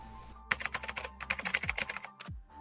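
A computer keyboard clicks out a quick burst of keystrokes in an irregular rhythm, close and crisp, stopping briefly before a couple of final taps.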